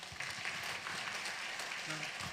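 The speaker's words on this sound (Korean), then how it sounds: "큰 박수로 격려 부탁드립니다." A church congregation at a women's district joint worship service claps in encouragement, a fairly faint, steady patter of applause filling the room for a couple of seconds.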